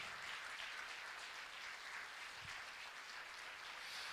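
A church congregation claps for the Lord during a sermon, steady, faint applause spread evenly throughout with no voices over it.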